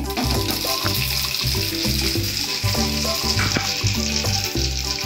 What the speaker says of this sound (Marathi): प्रथमतः मी पॅन गरम झालेला आहे, ह्याच्यात आता मी राई घालते